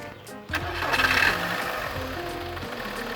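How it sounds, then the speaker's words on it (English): A 1997 Volkswagen Polo 6N engine cranks briefly with a starter whir, then catches and settles into a smooth, quiet idle close by, with no talk. "Now let's start the engine and you feel it."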